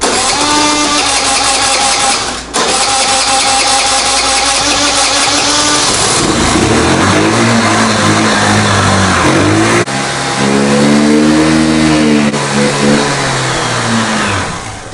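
Vespa scooter with a starting fault, its engine cranking and catching, then running and revving up and down in repeated close, loud pulls with a buzzy mid-pitched tone.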